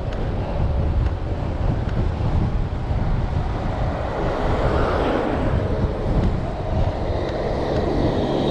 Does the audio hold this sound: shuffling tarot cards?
no